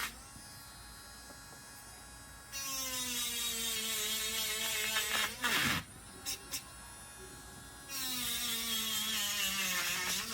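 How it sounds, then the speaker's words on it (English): A power drill whirs in bursts while busting holes through denim fabric, with a high, harmonic buzz that starts, briefly drops out mid-way with some rustling, then revs again. Quiet, close and without clear speech. "Get your drill. And just start busting holes through it."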